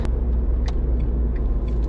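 A Renault Twingo S engine hums in a low, steady rumble while driving, heard close and continuous with no talk.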